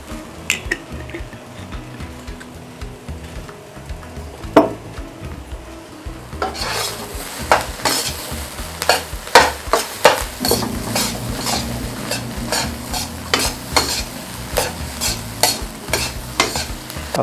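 Rice frying and stirring in a hot pan as oyster sauce goes in, with a steady sizzle and repeated sharp scraping and tapping of a spatula against the pan, close and fairly loud, no talk.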